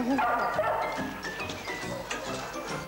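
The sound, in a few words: dogs barking in a large pack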